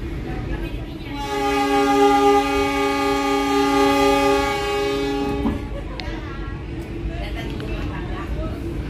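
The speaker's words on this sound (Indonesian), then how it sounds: "Kereta api Cikuray diberangkatkan dari stasiun Nagrek." Horn of the Cikuray passenger train sounds in one long, loud, steady blast as the train departs Nagreg station, cutting off sharply, with rumbling rail noise and engine hum underneath and continuing after.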